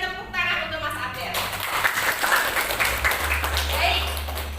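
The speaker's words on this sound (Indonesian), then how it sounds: "Kita berikan tepuk tangan untuk Mas Abel." Classroom applause for a student, scattered clapping from a class with a constant low hum beneath and some talking mixed in.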